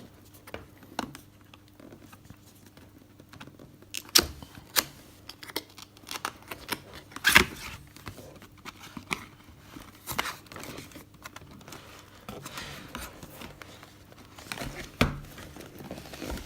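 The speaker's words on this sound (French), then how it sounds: "Donc passons tout de suite au déballage." A Blue Yeti Space Gray microphone being unboxed, with cardboard and plastic packaging crinkling, tearing and tapping in irregular bursts, close and moderately quiet throughout the stretch.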